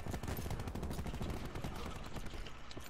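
Automatic gunfire in Call of Duty: Black Ops 4 during a Hardpoint match, a fast unbroken stream of loud shots rattling from start to finish, with chaotic battle noise filling the background.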